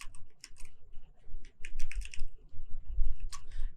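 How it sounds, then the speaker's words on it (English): Password typed on a computer keyboard, a close run of crisp key clicks in uneven bursts with short pauses between them, no talking. "let me just type it again"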